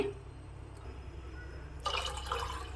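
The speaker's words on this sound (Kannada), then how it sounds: "ನೀರನ್ನು ಹಾಕ್ತಾಯಿದ್ದೀನಿ." Water is poured into a pot of soaked tamarind for Mysore Brahmin-style tilisaru, starting as a quiet kitchen hum gives way to a sudden, steady splashing rush partway through.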